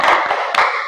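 Students clap their hands in a classroom clapping routine, a few quick rhythmic claps in two short bursts, loud and close, with no talking.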